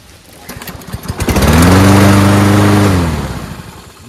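Lawn mower engine catching on the first pull: a few rapid cranking clatters, then a loud steady roaring idle that fades slightly toward the end, close by and alone.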